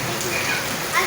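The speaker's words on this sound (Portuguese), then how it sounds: "Que chuva, meu Deus, que chuva boa, hein?" Heavy rain falls as a dense, steady hiss of drops on surfaces, close and loud. A voice is faintly present beneath it.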